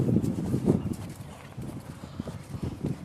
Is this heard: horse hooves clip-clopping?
yes